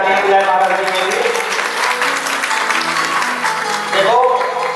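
An audience claps together to welcome the Maharaj at a Bhagavat katha gathering in Chandigarh, a dense sustained round of applause while a loud voice speaks over it.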